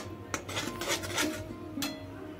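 Cashews and raisins being fried in a pan for fried rice, heard as a few clinks and scrapes of a utensil against the pan over a faint, steady background hiss.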